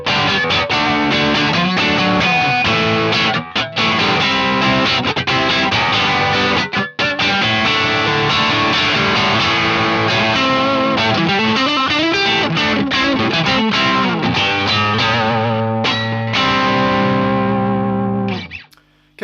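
Distorted electric guitar runs through channel 2 of a Victory V4 The Sheriff pedal preamp with the volume at nine o'clock. Loud, continuous chords and riffs are broken by a couple of brief gaps, and the playing fades out at the close.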